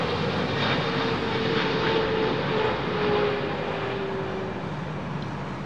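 Jet engines of an Air Canada Boeing 777 on the ground at Heathrow Airport give a continuous deep roar with a thin steady whine layered on top, close and sustained, with no talk.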